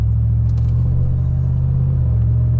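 A 2008 GMC Yukon Denali idles after a new modification, its engine and exhaust giving a deep, loud, steady rumble close by with no voices.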